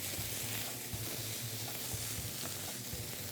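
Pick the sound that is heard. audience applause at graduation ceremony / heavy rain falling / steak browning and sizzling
steak browning and sizzling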